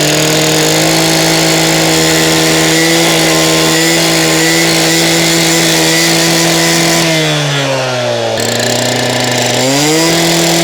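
A gas-powered saw runs loud and close with a steady engine drone, its pitch dipping as the blade bogs into the cut and then recovering, alone without speech.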